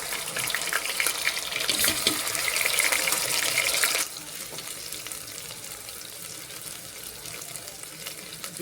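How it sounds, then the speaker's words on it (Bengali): Fried onion sizzles in a pan with ginger garlic paste and spices added, giving a steady, close frying hiss that is louder at first and then settles into a softer sizzle, with no talking. "পেঁয়াজটা ভাজা হয়ে গেছে, এখানে আমি একে একে মশলা দিই। আদা রসুন পেস্ট,"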